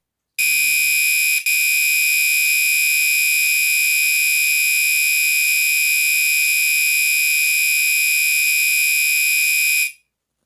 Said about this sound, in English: the next setting is default horn, high volume, continuous, strobe on